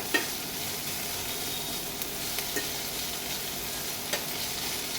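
Ridge gourd slices fry in butter in a pan, giving a steady, even sizzle throughout with a few soft scrapes and clicks of stirring; no voices.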